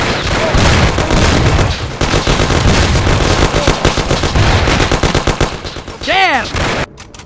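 Shootout gunfire in the video game Mafia, loud, dense automatic bursts and single shots overlapping almost continuously, near and harsh, ending in a short sweeping whine before cutting off.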